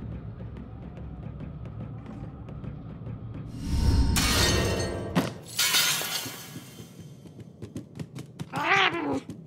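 Cat in the video game Murdered: Soul Suspect, with a sharp crash of breaking glass and clattering debris midway, followed by a loud meow near the end over a low ambient hum.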